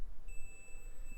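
A single sustained electronic beep from a multimeter continuity tester starts and holds steadily, clear and close over faint background hiss.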